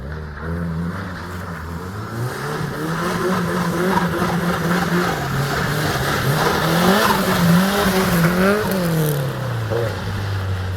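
A Subaru Impreza's engine revs and strains close by as tyres squeal in wavering, sliding drift tones, rising and falling over about ten seconds.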